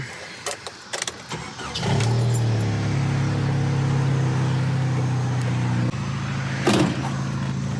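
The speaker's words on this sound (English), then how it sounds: "let's get this thing started up" A lifted Jeep on new heavy-duty springs cranks briefly with a few sharp clicks, then its engine catches and settles into a loud, steady idle close by, with one small dip near the end.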